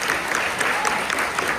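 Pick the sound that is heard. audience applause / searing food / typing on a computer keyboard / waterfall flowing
audience applause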